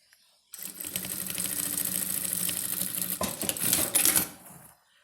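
An electric sewing machine stitches a seam on a fabric wallet bag, a steady rapid whirring run of about four seconds that ends in a few louder clacks, heard close with no talking.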